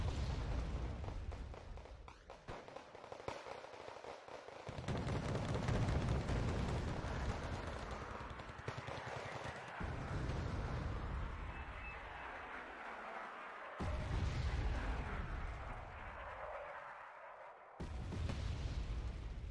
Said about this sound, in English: Now at this point I call in some mortars to try to stun whatever is in here.